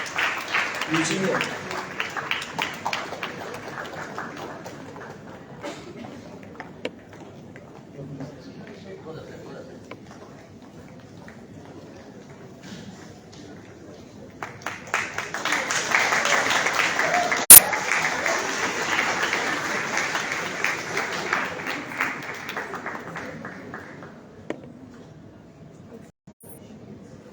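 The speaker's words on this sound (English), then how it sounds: "Please give a round of applause." An audience claps for named organizers at the valedictory ceremony of a national moot court competition. Applause swells to a loud, sustained burst midway, between quieter stretches where a speaker talks over the hall.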